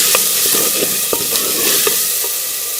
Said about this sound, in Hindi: ये आधा चम्मच लाल कश्मीरी मिर्च का पाउडर ये हम शामिल कर लेंगे और इसको अच्छे से मिक्स कर लेंगे